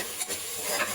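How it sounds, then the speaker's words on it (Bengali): Rice fries in a pan with salt and mixed ginger-garlic paste, giving a soft, continuous sizzle with faint stirring scrapes. "দিয়ে চালটাকে আমি ভালো করে ভেজে নেব"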